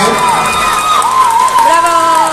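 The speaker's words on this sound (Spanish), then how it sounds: "mi Tlatecutli, un aplauso para él" A crowd at an anime convention cheers and whoops loudly over steady clapping, with voices shouting throughout.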